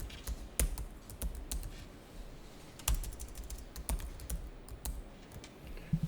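Keys clatter in irregular bursts on a computer keyboard during accounting data entry, with sharp isolated clicks that sound like the enter key, close and fairly quiet with no talk.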